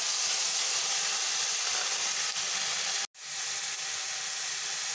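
Chicken mince with cumin, coriander, Kashmiri chilli, garlic and ginger paste frying in a pan for momo filling, a steady close hiss and sizzle that cuts out abruptly for a moment and then resumes.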